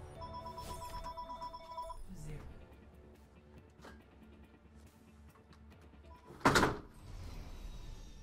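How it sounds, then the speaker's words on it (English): An indoor telephone rings with a steady electronic trill for about two seconds. Scattered knocks follow, then a sudden loud thump against a low background murmur. "We forgot about the phone."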